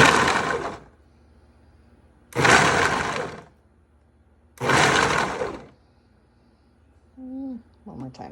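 A food processor on its chop setting pulses through garlic in three separate bursts of whirring blade noise, each about a second long with quiet gaps between, followed by a brief faint clatter at the end.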